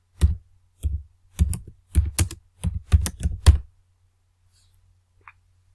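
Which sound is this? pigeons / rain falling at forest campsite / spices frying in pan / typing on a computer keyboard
typing on a computer keyboard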